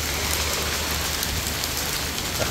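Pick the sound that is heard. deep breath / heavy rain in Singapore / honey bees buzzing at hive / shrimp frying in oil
heavy rain in Singapore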